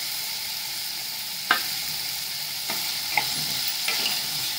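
Salted potatoes cook in a pan for jowar khichdi under a steady, bright frying hiss, with a few light clicks of a spoon against the pan.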